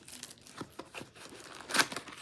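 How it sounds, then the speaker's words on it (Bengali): A Nykaa makeup order is unpacked by hand, with quiet crinkling and tearing of plastic and paper packaging in short bursts, one louder rustle near the end. "তো আনপ্যাক করছি"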